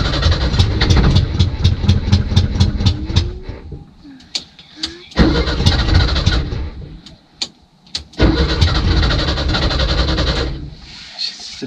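An old Volkswagen Bus engine, left sitting for over 30 years, cranks with a rapid repeated starter rhythm, catches briefly in loud uneven bursts and sputters between pauses, with faint talk underneath.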